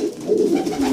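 Young racing pigeons in a loft coo steadily and softly up close, their low throaty calls overlapping continuously with no speech.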